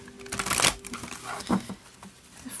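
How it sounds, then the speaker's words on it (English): A deck of tarot cards being shuffled in soft, irregular bursts of papery riffling and crinkling, close and fairly quiet, with no talk. "this deck doesn't really want to cooperate when it comes to shuffling."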